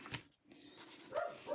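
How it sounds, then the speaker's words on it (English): A dog barks at the postman in a few short, faint, muffled yaps heard from indoors, spread unevenly across a brief moment. "Oh, that's my dog. He's just seen the postman."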